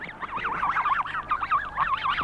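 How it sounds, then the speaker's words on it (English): Wild snow geese honk in a flock migrating south across North America, a busy overlapping chorus of nasal, wavering calls that carries on steadily from start to finish, moderately loud and with no people present. "The Bartletts pointed to the wild snow geese winging their way southwards in their thousands"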